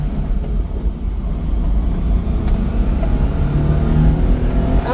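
A 1991 Daihatsu Hijet Jumbo truck engine pulls in second gear, a steady low drone heard from inside the cab, with road rumble and a slowly rising whine as it accelerates.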